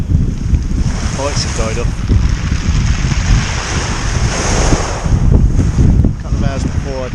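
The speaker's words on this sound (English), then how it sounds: "Wind is really strong, a lot more than I expected it to get to." Strong wind buffets the microphone on a shingle shore at Tide Mills while surf washes in steadily, a loud constant roar throughout; someone speaks briefly over it.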